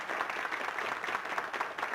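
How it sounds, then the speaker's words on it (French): An audience at a 1979 Sainte-Monique parish evening of Canadian music gives steady, fairly faint applause, an even patter of many hands with no break. "Puis il fait bien ça, on va l'applaudir."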